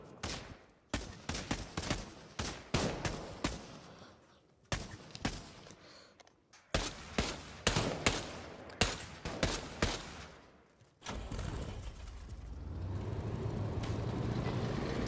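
Repeated bursts of automatic gunfire in a World War 2 video game, loud and rapid with short pauses between volleys, giving way to a steady engine-like rumble at the end.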